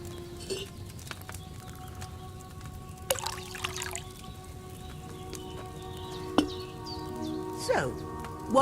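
Wine poured into a cauldron in Kingdom Come Deliverance 2, a short trickling pour with splashy liquid bursts and light clinks over a quiet room tone, amid scattered small handling noises.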